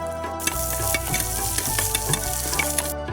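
Onions tossed onto cumin seeds in a hot frying pan sizzle loudly and steadily, with scraping stir strokes and small crackles over a constant fry, no talking.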